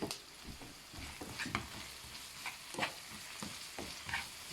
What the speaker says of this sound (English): now I've just got my onions sizzling away